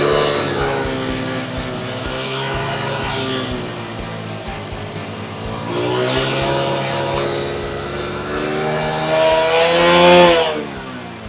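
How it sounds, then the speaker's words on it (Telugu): Motorcycle engine idling and revving up on its own to burn off leftover petrol in the carburettor, steady harmonic drone with two rising revs, the second louder and peaking before easing back. "ఇప్పుడు వచ్చేసి బైక్ స్టార్ట్ చేసి పెట్రోల్ అంతా ఉడకూడదాం"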